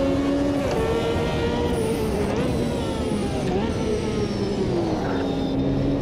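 A Ferrari 333SP prototype race car engine in the Automobilista 2 racing game, a loud continuous high-revving wail that climbs and drops through gear changes, with someone talking over it.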